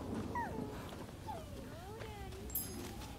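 A dog in the samurai action game Rise of the Ronin gives a few short, high whimpers and whines, faint and scattered over quiet game ambience.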